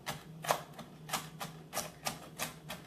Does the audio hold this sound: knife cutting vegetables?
yes